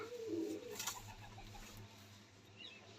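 Faint cooing from domestic pigeons at a loft: one short throaty coo at the start, then quiet ambient noise with a brief rustle.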